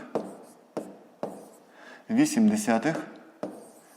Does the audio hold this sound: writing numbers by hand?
yes